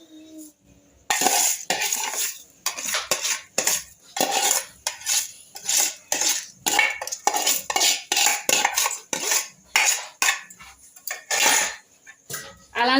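Vermicelli and rice being stirred together in a pot, a metal spoon scraping and clinking against the sides in steady repeated strokes, close and fairly loud, with no talking.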